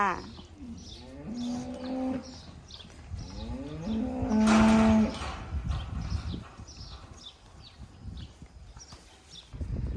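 A large dairy cow on a farm in canton Zug, Switzerland, gives two long, drawn-out moos, loud and close, with faint stall noises and hoof shuffling between them.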